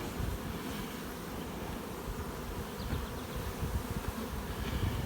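Honey bees buzzing around a hive during a honey harvest, a dense steady drone filling the air throughout, with a few nearer passes lifting above the continuous hum.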